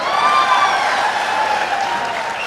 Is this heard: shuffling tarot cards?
no